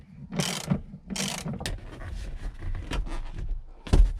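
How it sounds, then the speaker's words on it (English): A ratchet wrench works on the seat bolts inside a Nissan Frontier crew cab, producing bursts of rapid clicking interspersed with metallic clunks and a sharp knock near the end, close and loud with no speech. "I've got the 2 forward bolts removed and the nuts removed from the 2 upright bolts in the back there"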